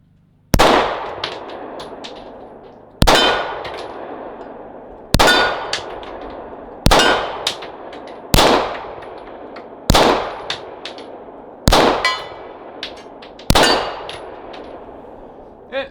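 A Hi-Point C9 9mm pistol fires a magazine at targets with a feed ramp problem, eight sharp loud shots spaced about two seconds apart, each followed by a ringing metallic clang from the struck steel and a fading tail.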